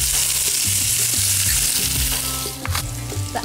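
Cinnamon stick, bay leaf and sliced onion fry in hot oil, giving a steady, loud, close sizzle with soft stirring scrapes throughout; nobody speaks.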